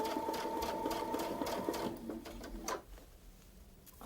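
A sewing machine stitches a 2-inch AppleCore quilt block in a fast, even mechanical whir for about two seconds, then slows and stops, leaving a few faint handling clicks.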